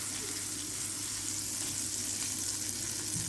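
Butter sizzles and fries in a hot pan while cooking ramen, a steady, bright crackling hiss that holds evenly throughout without pause.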